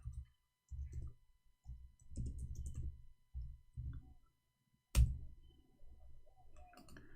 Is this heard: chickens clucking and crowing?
no